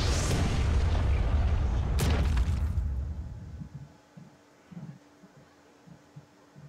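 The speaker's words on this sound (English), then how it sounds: "Sad part is he's going to have to fireball it." A Fireball spell detonates in the Hearthstone card game, a loud, deep booming blast with a second sharp impact about two seconds in, then fading into quieter low thuds.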